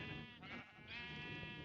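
Sheep bleating in a Minecraft-style building game, two drawn-out harmonic bleats in quick succession, clear and close over steady background game noise.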